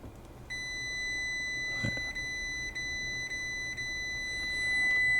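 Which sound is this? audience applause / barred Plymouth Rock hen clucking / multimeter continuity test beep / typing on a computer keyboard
multimeter continuity test beep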